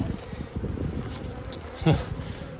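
A dense, steady buzz of many honeybees fills the air up close, with a few louder passes near the microphone.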